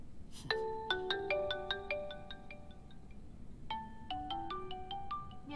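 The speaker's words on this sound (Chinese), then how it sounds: "你电话一直在响" A mobile phone rings indoors with a quiet electronic melody of bright repeating tones, playing a rising phrase twice with a brief pause between.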